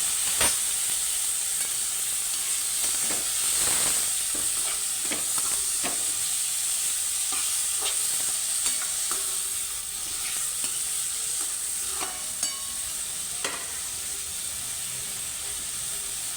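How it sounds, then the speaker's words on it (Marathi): Finely chopped bottle gourd sautés with turmeric, spices and salt after a mustard-seed tempering, a steady hissing sizzle with occasional stirring clicks and scrapes, close and even, without speech. "सगळं मसाला मीठ एकदम परतून घ्यायचं"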